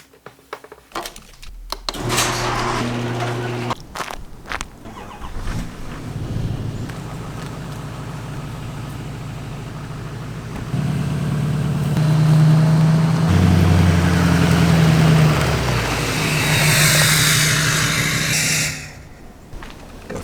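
An LML Duramax pickup truck is started and pulled forward, its diesel engine rumbling loudly and rising in a sustained low drone for several seconds before cutting off, with some clunks and handling noise at the start.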